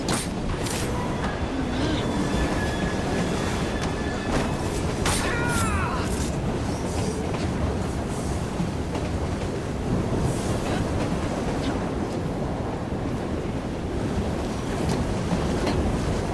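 A train in the video game Assassin's Creed Syndicate rumbles along with a continuous loud roar and rattling clatter, punctuated by a few sharp metallic squeals and clanks early on.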